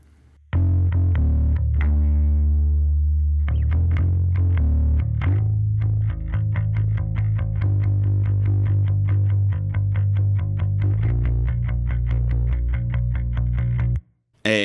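Isolated bass guitar track from a song, a gritty, effected bass playing sustained low notes and changing lines, loud and steady, ending abruptly.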